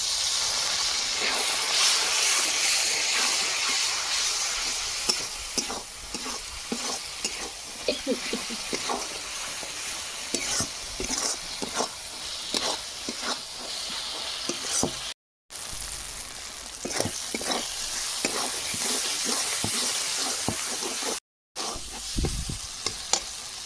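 Spice paste frying in oil for a spicy Kashmiri aloo dum, a loud, steady sizzle and hiss close by, broken by scraping stirs and two brief silent cuts, with no talking.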